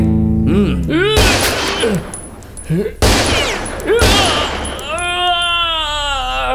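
Gunfire in a Hindi-dubbed South Indian action film: three sharp, loud blasts go off over a chaotic scene of shouting and wailing voices, with a crying, sobbing cry rising after the last shot.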